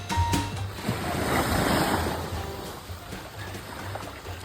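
Ocean waves wash onto a beach on Agatti Island in Lakshadweep. The surf rolls in a steady soft rush, swelling and easing, with some wind buffeting the microphone and no voices.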